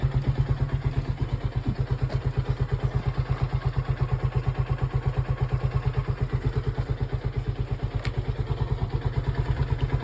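A Lifan KP Mini 150 motorcycle engine idles just after a cold start with the choke off, a steady, close, loud low thumping beat running evenly throughout with light mechanical clatter.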